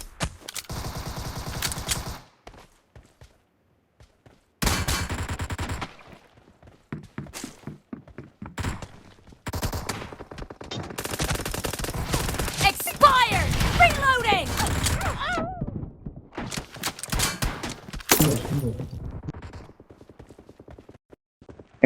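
Pistol fire from a P18C in a team deathmatch video game round, with bursts of sharp gunshots and clattering effects coming in uneven clusters amid loud game action, with people talking over the top.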